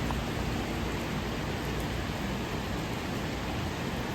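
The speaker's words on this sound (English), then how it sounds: "it's raining real hard" Heavy rain pouring steadily outdoors during a winter storm in Atlanta, a dense, continuous hiss that fills the scene close by with no let-up and no voices.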